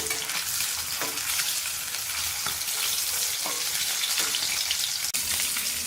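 Eggs frying in a pan, a steady dense sizzle with faint crackles, close and continuous with no talking, cooked alongside a prawn and drumstick curry in a home kitchen.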